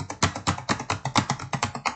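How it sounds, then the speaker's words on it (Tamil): Computer keyboard typing during a ReactJS coding session, a brisk steady run of close, crisp key taps at roughly four to five strokes per second, with no talk. "இப்போ உங்களால் டைப் பண்ண முடியுதான்னு பார்த்தா"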